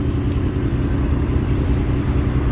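A Ferrari Dino engine runs at a Japanese car meet at Daikoku parking area, giving a continuous low, steady rumble for a couple of seconds. It is fairly close, with no talk over it.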